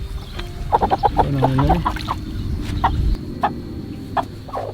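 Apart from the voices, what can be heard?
broody hens clucking while being handled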